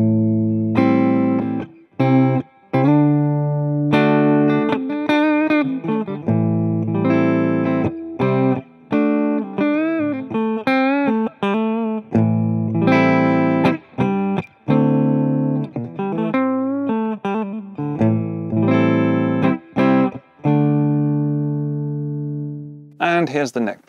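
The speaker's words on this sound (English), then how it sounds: "Here's a clean setting on a Fender Deluxe Reverb amp on amplitude, and I've got the bridge pickup and tones at about 8 and volumes all the way up." A Squier Affinity Strat in candy pink sparkle plays clean on the bridge pickup through a Fender Deluxe Reverb amp, strummed chords and arpeggios with short gaps, close and moderately loud, with no talking.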